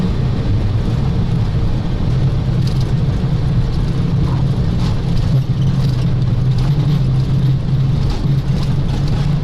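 Boeing 737 engines at takeoff thrust on a snowy-day flight, heard from the flight deck as a steady loud roar with a deep rumble that holds unbroken throughout.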